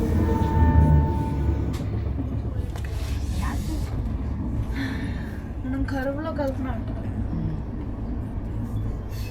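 The AP Express passenger train rolls slowly into Visakhapatnam station with a loud, steady rumble and clatter of wheels and carriages, while people talk over it nearby.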